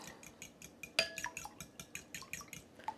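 A fork clicks and scrapes quickly against a bowl while beating eggs, water and vinegar together for a pie crust, giving a steady run of light, close tapping strokes with one sharper clink.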